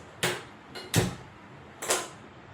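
A pressure cooker is set down on a stovetop in a home kitchen, giving three close metallic knocks and clatters spaced about a second apart over quiet background, with no voices.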